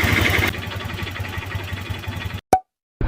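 A motorcycle engine idles steadily up close after a valve clearance adjustment, with a low, even pulse. It cuts out abruptly, followed by a single sharp pop and a brief return of sound.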